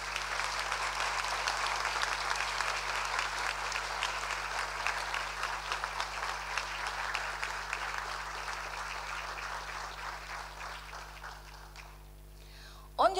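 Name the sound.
graduation audience applauding staff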